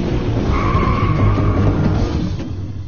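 Screeching skid from a motorcycle stunt in a Hindi-dubbed Scooby-Doo circus cartoon, a sustained tire squeal with a steady engine roar underneath, loud and continuous for a few seconds.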